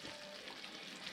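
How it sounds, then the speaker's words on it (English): Soft, faint sizzle and gentle stirring of butter chicken curry in a pan as cream and lemon juice are mixed in, a brief continuous hiss with no talk. "I'm just going to mix all that together"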